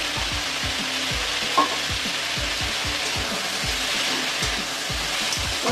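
Turmeric and salt go into a hot pan of potato, pointed gourd and long beans frying for a fish curry, giving a steady loud sizzle with a spatula scraping and stirring in a regular rhythm.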